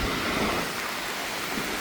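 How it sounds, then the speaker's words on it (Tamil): Torrential monsoon-style rain falls during flooding in Sri Lanka, a dense, loud, unbroken roar of downpour with no speech. "கடும் மழையாக கிடக்கு"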